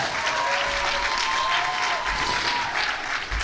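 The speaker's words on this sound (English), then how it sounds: "Give them a huge round of applause." Luncheon audience claps warmly at a charity spring luncheon, a loud dense wash of hands applauding continuously, with faint tonal sounds and low thumps mixed in behind the clapping.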